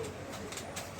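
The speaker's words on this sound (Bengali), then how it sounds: "কবুতর দেখাবো" Domestic pigeons cooing in a loft, soft low coos repeating a few times at moderate distance against a steady background hiss.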